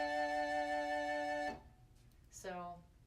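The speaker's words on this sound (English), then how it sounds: "The first one is called Peruvian panpipes" A Peruvian panpipes software instrument in Logic Pro X holds one breathy sustained note for about a second and a half, then after a short gap a second note begins, alone and moderately loud.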